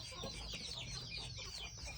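Chickens clucking alongside ducks at a small mixed farm, several birds calling in quick overlapping bursts at close to moderate distance, soft but continuous.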